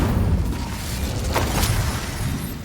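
A dull spell blast booms in the Hogwarts Legacy video game, a loud low rumbling burst with crackling sparks flaring around the middle, filling the short moment without any voices.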